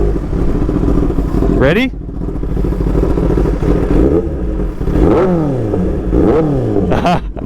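Close and very loud, a sports motorcycle engine fires up and is revved repeatedly, the pitch climbing and falling in sharp sweeps, with a person speaking briefly beside it.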